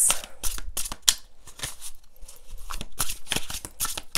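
Tarot cards are shuffled by hand up close, with a run of crisp riffling, slapping and sliding bursts in an uneven rhythm, loud and without any talking.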